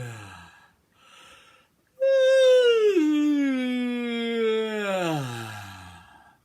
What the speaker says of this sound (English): A nice yawn you can hear.